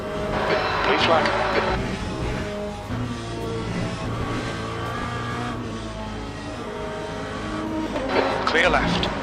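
Race car engines drone steadily through a Le Mans Ultimate race, with tones rising and falling as cars close in and pass. A radio voice talks over the engine noise.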